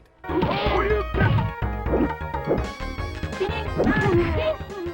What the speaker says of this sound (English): The impact sound effects vary, from strength level to if one is blocked or if it's connecting from the sky